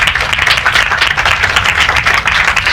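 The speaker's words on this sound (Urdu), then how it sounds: "زوردار تالیاں بہن کے لیے" Loud, steady applause from a church congregation at a Holy Spirit prayer meeting, honoring a woman who has just been prayed for, continuous clapping filling the room without pause.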